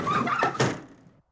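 A door opens in the Momo horror game, a single close scraping creak and thud that fades out within a second.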